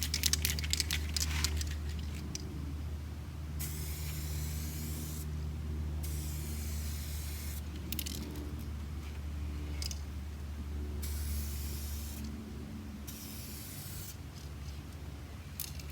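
Spray gun laying down a second coat of automotive clearcoat in a car clearcoat repair, broad steady hissing bursts of several seconds each separated by short pauses, close and continuous over a low background hum.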